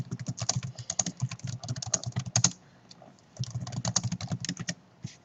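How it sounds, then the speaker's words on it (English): Rapid clicking of keys on a computer keyboard, two bursts of typing separated by a short pause, close and clear. "So that we know who you are by typing in your name."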